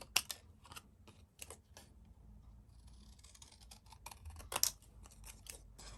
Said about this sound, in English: I tend to use a bigger pair of scissors for cutting out the sentiments.